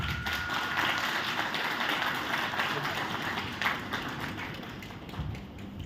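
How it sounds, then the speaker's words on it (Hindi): An audience at the inauguration of a three-day Art of Living stress-management workshop claps in steady, dense applause that fills the room throughout, with a faint voice underneath. "एक बार तालियां बजा दें प्लीज।"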